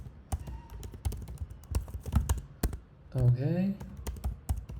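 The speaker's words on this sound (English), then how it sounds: "So let me type in the password." A password being typed on a computer keyboard: crisp, close key taps in an uneven rhythm, interrupted midway by a short spoken word before the typing resumes.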